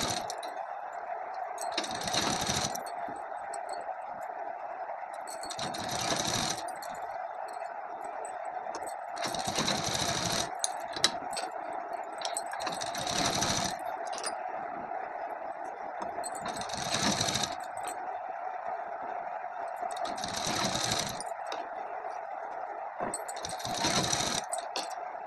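A sewing machine stitching a suit, pausing as pins are pulled out one by one: short, even bursts of rapid stitching repeat every few seconds over a quiet steady hum.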